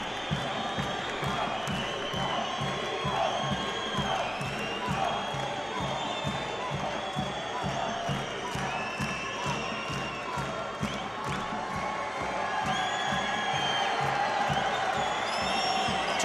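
An arena crowd at an 81kg light heavyweight wrestling bout keeps up a steady, fairly faint roar of cheering throughout, with a commentator's voice under it.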